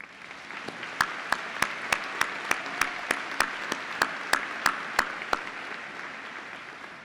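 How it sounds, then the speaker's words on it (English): A graduation audience at a university spring commencement claps, thin and fairly faint, with a steady patter of hands under a series of sharper, evenly spaced clicks that punctuate it roughly every third of a second. "Let's take a minute to applaud those who are watching from around the world."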